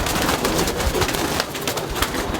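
Racing pigeons coo and rustle nearby in a flying loft, soft irregular calls and fluttering over a busy background.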